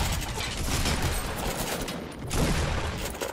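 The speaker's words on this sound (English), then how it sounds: "So much shooting going on." Dense, continuous bursts of gunfire from a Fortnite battle crackle loudly and without pause, with overlapping shots blending into a rolling barrage.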